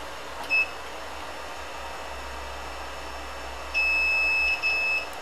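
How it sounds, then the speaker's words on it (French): A test beep from a Dell U2718Q monitor main board after a capacitor was isolated on the power line, a short tone followed by a longer steady beep, clear over faint background hiss. "on a isolé le condensateur et il va faire un gros bip normalement."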